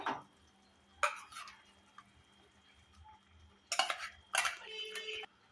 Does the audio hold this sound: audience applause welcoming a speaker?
no